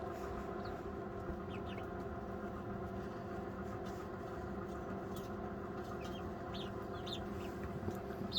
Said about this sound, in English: these Brahma roosters are here in the middle